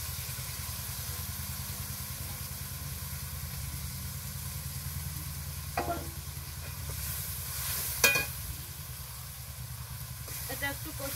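Spice paste sautéing and sizzling steadily in a pan for a village-style banana-flower fritter curry, close and continuous, with occasional stirring scrapes and knocks.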